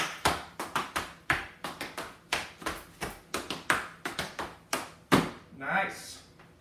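Clog dancing in an intermediate line-dance class: crisp, rhythmic wooden taps and heavy stomps in quick succession with occasional hand claps, close and loud, ending in a brief scuffing shuffle.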